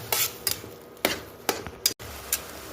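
A spoon scraping and tapping against a pan while sugar melts for carrot halwa, with a handful of sharp metallic knocks at uneven intervals over a faint sizzle, close by.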